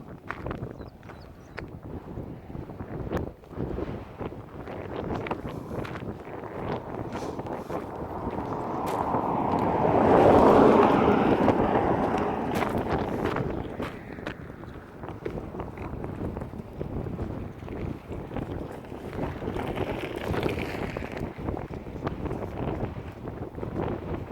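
Strong wind buffets the microphone in heavy rumbling gusts while hiking from Wessenden Head Car Park to Deer Hill Reservoir in Yorkshire, swelling loudest midway, with no clear speech.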